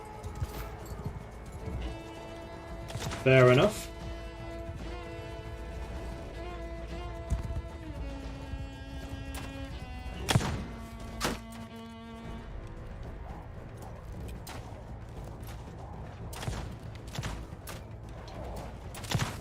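Cavalry horses charging in Mount and Blade 2: Bannerlord, with a battle scene of hooves clattering and a horse whinnying amid clashing noises and sustained tones, while a voice speaks briefly.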